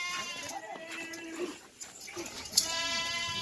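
Several goats bleat at a goat farm in Pakistan, overlapping wavering cries near and farther off, with men calling out among them.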